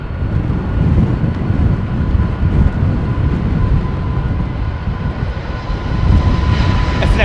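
Old Delta jet airliner engines roar steadily and loudly near the cabin, a continuous broadband rumble with a faint whine, with no talking.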